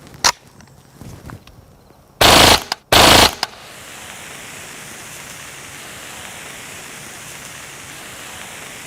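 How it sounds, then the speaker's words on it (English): A Kriss Vector in .45 ACP fires two loud, rapid bursts at a stainless steel beer keg downrange, each lasting under a second. A few sharp single reports come before the bursts, and a steady outdoor hiss follows. "it turned out the 45 ACP wasn't quite up to the job of piercing through that stainless steel keg"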